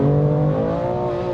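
A 650 bhp BMW M2 Competition engine revs hard and pulls under acceleration, a loud, steady, close-up drone whose pitch holds high and then eases slightly, with no talking over it.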